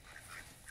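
A Muscovy-duck hybrid calls in a duck-like way, giving a few faint, short quacking notes over a low background murmur.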